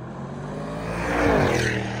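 An Audi RSQ8 Performance engine running, a low steady rumble that swells briefly in the middle before settling, heard from a moderate distance.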